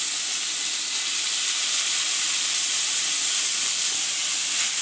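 Small peeled potato pieces sautéed with onions in a pan give off a loud, even hiss of frying that stays steady and close throughout without a break.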